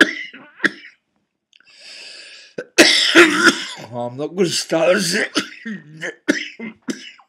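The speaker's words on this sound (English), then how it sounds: "just because I have a coughing fit" A person coughs hard several times, harsh bursts close to the mic, then goes on talking.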